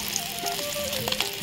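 Rohu fish pieces sizzle briefly in hot oil, a close, crackling fry with a few sharp pops and no talking.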